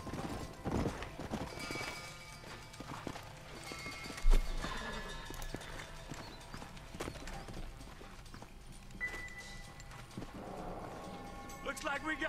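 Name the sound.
horses' hooves clip-clopping in Red Dead video game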